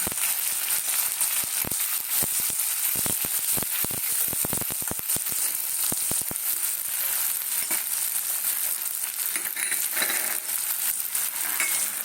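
Potatoes fry in a pan for a shrimp and banana-flower curry, a steady close hiss of hot oil with a burst of crisp pops and crackles early on, then a smoother sizzle.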